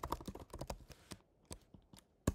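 Someone types code on a computer keyboard: a close, crisp burst of rapid key clicks, a short pause, then a few scattered taps ending with one harder keystroke.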